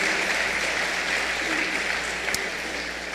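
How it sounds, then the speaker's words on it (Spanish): Church congregation applauding during a Sunday service, steady sustained clapping filling the room for the full stretch with no pause. "demos un aplauso para esta familia"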